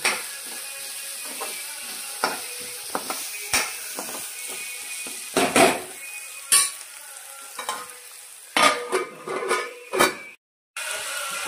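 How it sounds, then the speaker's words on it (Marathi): Onion and bell pepper fry in a pan, a steady close sizzle broken by repeated scraping and clacking stirs from a utensil, with a few louder knocks near the end. "थोडा भाजून घ्यायचा चांगला कांदा, वाफेवर थोडं शिजवून घेते मी, मग भोपळी मिरची टाकते।"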